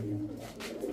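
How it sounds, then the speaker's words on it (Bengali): Teddy breed pigeons cooing in a low, steady, continuous murmur, close by, with no talk over it. "টেডি কবুতর ভাই, টেডি টেডি টেডি টেডি।"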